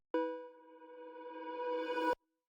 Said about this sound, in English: You do this into a reverb and then you reverse the recording.